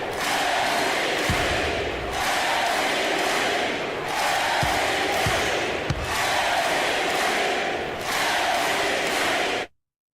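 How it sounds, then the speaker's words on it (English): Basketball arena crowd at an NBA Finals playoff game cheering loudly, a dense, sustained roar of many voices that swells and dips in waves and then cuts off suddenly. "The crowd goes wild!"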